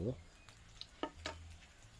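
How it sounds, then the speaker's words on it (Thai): Pork fat sizzles quietly in a pan as the rendered pork is scooped out of the oil, with a few brief scrapes and clinks over a faint crackle. "นี่นะน้ำมัน ออก มาแล้ว ค่อนข้างเยอะเหมือนกันนะน้ำมันเนี่ย ผมก็ตักหมูตักกากหมู"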